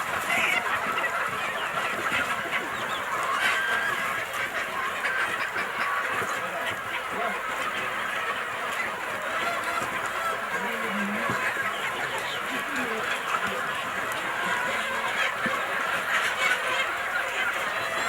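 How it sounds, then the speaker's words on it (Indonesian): Chickens cluck in a busy, noisy setting, their faint cackles scattered under steady background hubbub and murmuring voices for the whole stretch. "Ayam yang ditangkapnya nih Pak"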